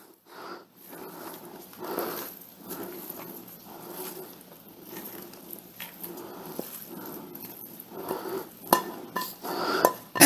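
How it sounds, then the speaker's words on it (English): Meatloaf mixture of ground meat and breadcrumbs being mixed together by hand in a crock pot, giving soft, irregular squishing and occasional light clinks of the pot, moderately close, with no talking. "And then we want to get in there and mix it all together."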